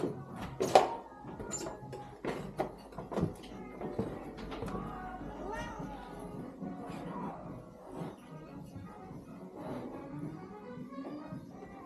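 A cat meows a few times close by amid a busy indoor background of shuffling, thuds and soft voices in a Nevada hotel.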